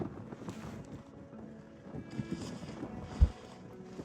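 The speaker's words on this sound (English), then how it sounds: "Bit of wind there." Gusty wind buffets the microphone outdoors in snowy New Zealand backcountry in winter, a low uneven rumble rising and falling throughout, with one sharp thump near the end.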